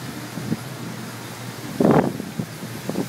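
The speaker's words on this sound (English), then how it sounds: "Man, that wind is really blowing." Gusty wind moves through yard trees after a hurricane in 2011, a low steady rush with a louder gust swelling near the middle, some rustling bursts over constant background noise.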